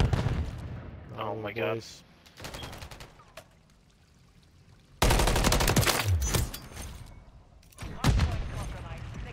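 Bursts of gunfire ring out in a Call of Duty Modern Warfare III ranked multiplayer match, loud and close, with a short lull between volleys and a player exclaiming over the action.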